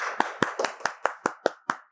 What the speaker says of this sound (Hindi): क्या बात, तालियां।